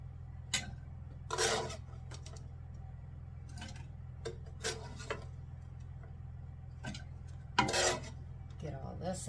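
A spoon scrapes and knocks inside a cooking pot of Italian sausage and lentil soup, with intermittent stirring strokes over a low steady kitchen hum and no talking.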